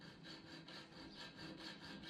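A small chainsaw file rasps around a metal ferrule on a fourteenth-century style side arm, cutting a groove in quick, even back-and-forth strokes about three or four per second, faint and close with no voices.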